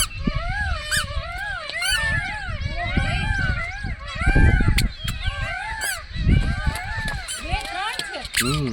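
Peacocks call near the hilltop Khodiyar Maa temple near Sihor, a dense chorus of repeated rising and falling honking wails from several birds, with people talking underneath.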